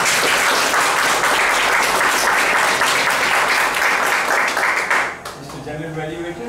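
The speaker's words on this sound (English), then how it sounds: "Give a round of applause." An audience at a speakers' club meeting bursts into sustained, dense applause that holds steady for about five seconds, then fades abruptly to a few scattered claps and quieter room noise.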